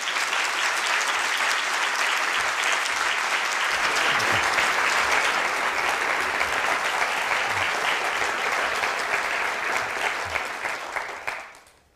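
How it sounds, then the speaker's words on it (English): A seated audience at a Centre for Policy Development talk in Sydney welcomes a speaker with sustained applause, a thick, loud clapping that runs unbroken for about ten seconds before tapering off quickly at the end. "a very big round of applause for all of the work that Pavan is doing in his spare time"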